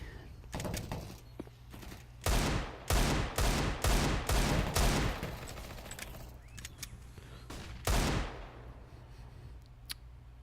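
P90 submachine gun fire in Counter-Strike: Global Offensive during a competitive match, heard as a run of loud, evenly spaced bursts followed by a single later burst and a few sharp clicks.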